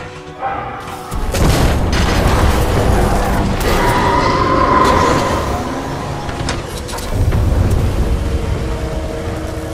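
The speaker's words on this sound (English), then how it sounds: "a series of explosions just weakened the manipulator arm" Heavy explosions rumble through a Titanfall 2 industrial complex, with a deep boom starting about a second in, sustained roaring debris and a second loud blast near the end, all loud and close.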